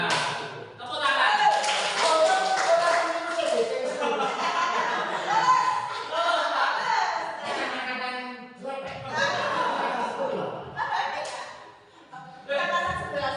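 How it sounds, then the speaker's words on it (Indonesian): Classroom applause with rhythmic patterned clapping mixed with children's voices and chuckles, lively and sustained throughout, with talking and laughter over it. "Nah, tepuk tangan."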